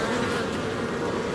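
Honeybees buzz densely around an open hive with the queen among them, a close, continuous, loud droning hum with no break.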